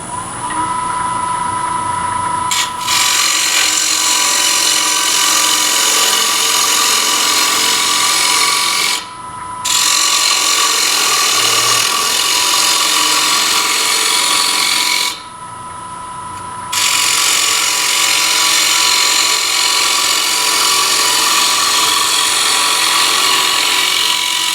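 A bowl gouge cuts into poplar wood spinning on a lathe. The loud, continuous hissing shear runs close up with two brief pauses in the cut, over a steady motor whine.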